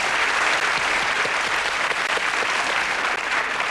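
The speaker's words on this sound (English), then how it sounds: "Even our Tulia's applauding you there." Studio audience applause on a television dating show, loud, dense and continuous clapping that fills the whole stretch without pause.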